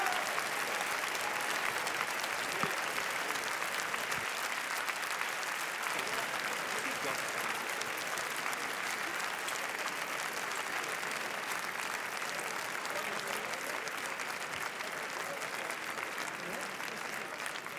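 Sustained applause from a large crowd on the red-carpet steps at the Cannes Film Festival before the screening of En guerre, a dense, steady clapping wash lasting the whole stretch, loud and close, with no talking over it.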